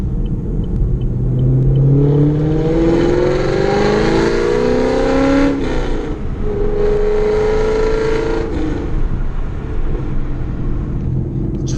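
A Chevrolet Camaro V8 engine with a Corsa Extreme exhaust revs up repeatedly under 4,000 rpm, its deep exhaust rumble rising in pitch and then dropping back, loud and close throughout.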